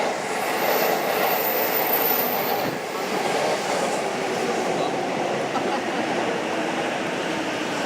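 A train on Tokyo's Yamanote Line rumbles past with a steady, broad roar that holds level throughout, fairly loud and continuous.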